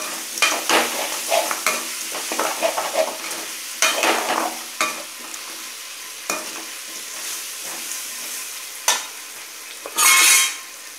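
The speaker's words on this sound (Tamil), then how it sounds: "கருணைக்கிழங்கு சேர்த்து நம்ம அந்த மசாலா மாதிரி இருக்குது பார்த்திங்களா அது எல்லாமே வந்து கருணைக்கிழங்கில் ஒட்டுற மாதிரி கிண்டுங்க" Elephant foot yam pieces are stirred into frying masala for a tangy tamarind curry, with irregular spoon scrapes and clinks over a low steady sizzle, ending in a short loud hiss.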